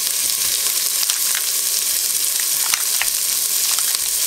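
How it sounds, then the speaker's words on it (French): Meatballs browning with onions in a dish give off a steady, close sizzle throughout, with occasional sharper crackles and pops over the continuous frying hiss. "on les met du coup à dorer dans le plat avec les oignons pour les faire légèrement dorer"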